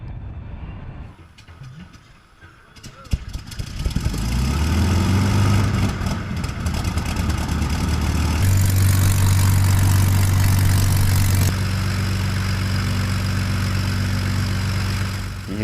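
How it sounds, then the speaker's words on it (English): A de Havilland Mosquito's engines run up after restoration, starting quiet, then catching and building into a loud, sustained engine roar whose pitch climbs in steps, all heard up close with no talking. "Once it's installed, both engines can be run up."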